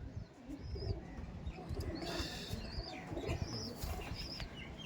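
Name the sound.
pigeons flapping wings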